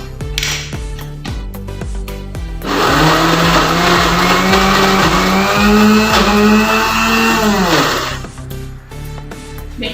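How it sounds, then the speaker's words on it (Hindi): An electric chopper whirs loudly and steadily for several seconds as it minces meat for kebabs, its motor pitch shifting slightly, framed by short bursts of pulsing before and after. "कीमे को भी मैंने साथ डाल दिया था ताकि एक दफा अच्छे से फिर से चॉप हो जाए"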